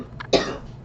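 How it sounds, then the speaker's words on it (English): A single sharp cough from a woman recovering from flu, with a faint shorter catch just before it, close to the microphone in a quiet room. "I made it through a lot of videos without coughing."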